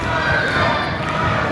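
A wrestling crowd at a Romford event cheers for Isaac, a dense, loud roar of many voices with thuds underneath, sustained throughout.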